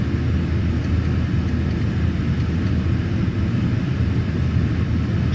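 A Sun Country PMDG 737-800 takes off in a flight simulator, its engines giving a steady, loud, continuous roar and low rumble that holds evenly throughout with no talking.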